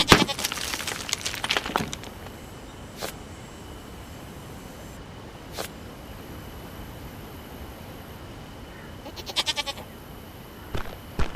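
A goat in the survival video game Last Pirate bleats in short bursts at the start, then again sporadically through the clip, with quiet background ambience in between.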